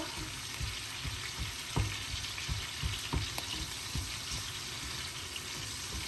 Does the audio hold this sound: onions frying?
yes